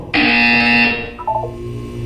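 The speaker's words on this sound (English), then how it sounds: "You will hear a buzzer. When you hear the buzzer, look down at the floor." A loud electronic buzzer from the video game Portal 2 sounds once for about a second, then stops abruptly, followed by a few short, softer electronic tones.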